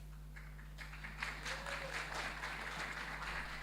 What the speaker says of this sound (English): That's actually not the point, but sure,